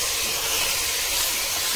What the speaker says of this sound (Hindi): इसमें गया मेरा 1 kg मटन, और इसको हम तब तक इसमें तेल में फ्राई करेंगे